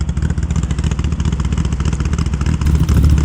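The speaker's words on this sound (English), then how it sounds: "Going to run my engine in." Stock car engine revving hard during practice at Swaffham Raceway, with a loud, continuous rough rumble that climbs near the end.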